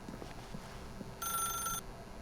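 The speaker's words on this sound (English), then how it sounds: "As Stanley picked up the phone" A telephone being picked up in the video game The Stanley Parable gives a short, bright tonal burst lasting about half a second, standing out over a faint, steady low background.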